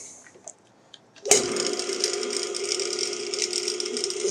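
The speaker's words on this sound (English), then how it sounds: "It's a pretty nice pop right there on the, what's it called? The start centrifugal clutch." A Dayton single-phase electric motor, rebuilt for a lathe with new bearings and start capacitor, spins up after a sharp pop from its centrifugal start clutch, then hums and whirs steadily and close by, alone without talk.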